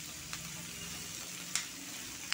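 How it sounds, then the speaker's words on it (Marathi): Chillies, carrot and radish for pickle sautéing in a pan on a low flame, giving a steady soft sizzle with a few faint clicks of stirring. "हे चांगलं परतून घ्यायचं आहे मंद आचेवरती"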